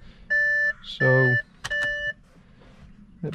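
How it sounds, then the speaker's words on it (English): An Audi S7 4.0T sounds a steady electronic warning chime, several clear, loud tonal beeps close by in short bursts, with a voice talking between them. "that beep is annoying."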